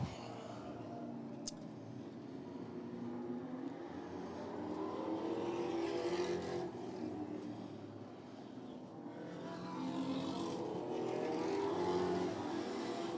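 Late model sportsman race cars roar along the back straightaway at Hudson Speedway, a steady, loud blended engine drone that swells and eases as the pack passes.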